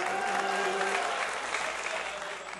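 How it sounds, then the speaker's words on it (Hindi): An audience at a poetry mushaira bursts into sustained clapping, a dense, steady wash of applause with faint voices mixed in. "तालियों से।"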